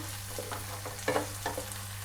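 Tomatoes being stirred into softened onions in a frying pan, a steady sizzle with a few soft scraping stirs of the spoon, close and alone over a low hum.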